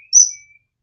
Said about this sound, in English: you hear the whistling?